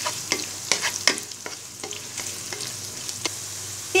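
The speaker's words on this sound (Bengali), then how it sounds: "এবার পেঁয়াজটাকে হালকা ব্রাউন কালার করে ভেজে নিব।" Chopped onions fry in hot soybean oil, steady sizzling under repeated scraping stirs of a spatula against the pan, close and fairly loud, with no talk.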